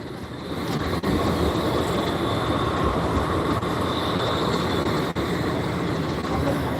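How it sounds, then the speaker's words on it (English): A train rolls along the rails with a loud, steady rumble and hiss that holds throughout, close by and with no voices over it. "I never knew they added these trains down here"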